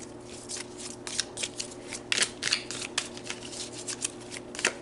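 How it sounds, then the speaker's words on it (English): Tarot cards being shuffled and pulled from the deck, with a run of crisp, papery riffles and flicks in quick bursts, close and moderately loud, and no talking. "Let's pull you some tarot cards to go deeper."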